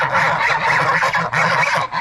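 Several geese honk loudly and close by on a farm, overlapping nasal calls in quick repeated bursts with no pause.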